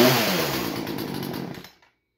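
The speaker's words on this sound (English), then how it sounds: "And it does start back." A refurbished Poulan Pro PR4218 chainsaw runs loud and close, its two-stroke engine buzzing with a rough, pulsing rattle before cutting off abruptly, leaving silence.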